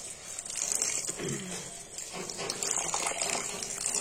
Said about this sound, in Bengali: তো এখন শাকটা ধুয়ে নিচ্ছি